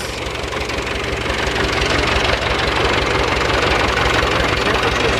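A International B414 diesel tractor engine runs steadily nearby after a radiator replacement, a continuous low rumble with a rhythmic knocking beat and steady loudness throughout.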